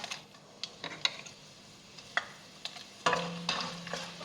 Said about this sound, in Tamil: இந்த மிளகாய் கொஞ்சம் செவந்து வர்ற வரைக்கும் நல்லா எண்ணெயில் வதக்கி விட்டுக்கலாம்